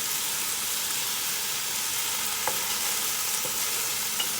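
Pancit bihon noodles fry in a pan with an even, continuous hissing sizzle, a few faint utensil taps over it, with no voices.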